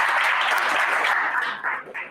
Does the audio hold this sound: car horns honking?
no